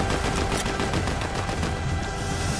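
Rapid gunfire from the video game Fortnite, a dense continuous burst of shots filling the whole moment at steady loudness, with no voices over it.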